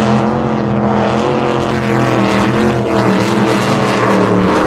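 A motorboat engine drones loudly and steadily, with water rushing beneath it and no voices.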